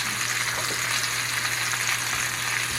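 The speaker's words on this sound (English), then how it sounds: "Add the MARSALA wine and cook until mostly evaporated for 30 to 60 seconds" Marsala wine sizzles in a hot pan with mushrooms, cooking down for smothered pork chops; a steady, close, even frying hiss runs unbroken throughout with no talk.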